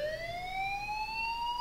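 A fire alarm wails in the video game Life is Strange, a steady rising electronic tone held without break, loud and alone.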